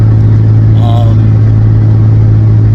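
Car driving with a loud, constant low engine drone heard from inside, steady throughout with a brief faint higher tone near the start, no clear talking.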